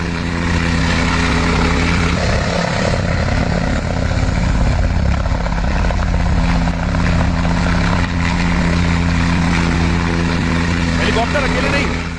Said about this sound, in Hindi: रात के हमले के बाद देखिए हेलीकॉप्टर आसमान में आपको नजर आ रहा है